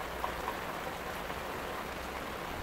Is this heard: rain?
yes